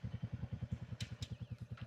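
A motorcycle engine idles after a cold start in a mountain homestay at seven in the morning, a steady rapid thumping beat, fairly faint and even, with a couple of brief clicks over it.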